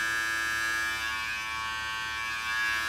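A Brio Beardscape v2 beard trimmer runs on its highest setting at 7,000 RPM, giving a steady, even electric buzz with a high whine that stays at the same level and fairly close throughout.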